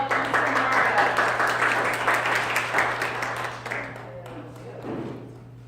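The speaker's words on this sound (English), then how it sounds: "let's please give Ms. Tony a round of applause" Audience applause at a home buying workshop welcoming a presenter, steady dense clapping filling the room before thinning out toward the end, with a faint voice near the close.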